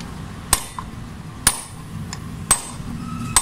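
Four sharp, loud hammer strikes, evenly spaced about a second apart, each ringing briefly over a low background hum with no speech.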